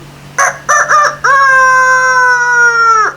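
A person imitates a rooster crowing for a puppet during storytelling: a few short clucking bursts, then one long, sustained, close crow.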